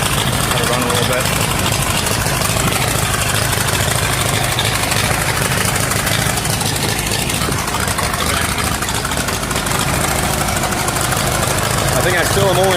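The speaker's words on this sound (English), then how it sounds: "I think I still am only running on 3 cylinders." An Allis Chalmers CA tractor engine idling while misfiring on three cylinders, a rough, loping low rumble with uneven knocking pulses, close and loud, running continuously throughout.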